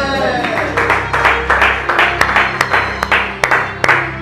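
A church congregation claps and acclaims the Lord, a run of loud, roughly regular hand claps over a crowd wash, with raised voices mingled underneath.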